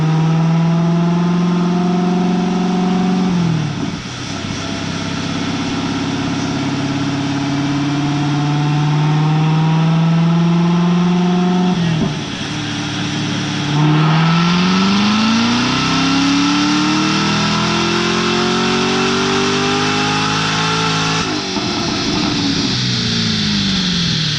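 A loud 2019 Corvette ZR1 engine with cat delete and X-pipe revs hard repeatedly on a dyno, its pitch climbing and dropping in long sweeping pulls, with a steady roar throughout and no talking.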